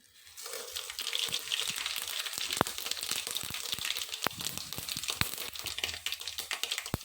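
Mustard seeds, fennel and cumin crackle in hot oil while tempering for sambar, making a dense run of sharp pops and spits over a faint sizzle that starts after a brief quiet moment.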